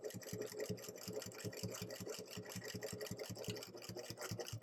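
A Bernette b08 straight-stitch sewing machine runs steadily during free-motion quilting, its needle thumping in a fast, even rhythm, close and continuous with no pauses.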